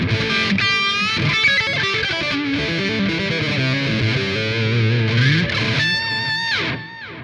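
Electric guitar played through an Echo Man delay effect in Amplitube 5, a distorted, sustained rock tone with repeating echoes trailing each note and chord, loud and continuous before fading slightly at the end.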